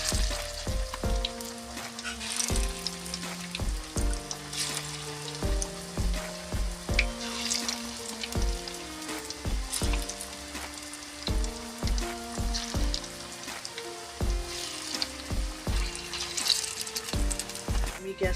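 Cabbage pakoras frying in hot oil, bubbling and sizzling steadily close to the pan, with a rhythmic melodic backing underneath throughout.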